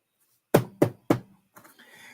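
Three sharp knocks in quick, even succession, close and clear, followed by faint rustling.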